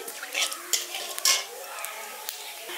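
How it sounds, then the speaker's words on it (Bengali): Black cumin seeds frying in hot oil as a tempering for a village-style winter vegetable dish, a bright crackling sizzle with a few metallic stirring clinks against the pan, close and moderately loud, with no voices. "ফোড়নটাকে হালকা একটু ভেজে নিচ্ছি"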